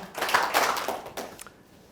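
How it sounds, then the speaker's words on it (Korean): A short burst of clapping from an audience at a feng shui lecture in a university hall, a few seconds of scattered hand claps that fade out quickly, fairly faint and without talk. "박수 한번 쳐주세요. 자, 박수 시작. 박수 두 번 시작."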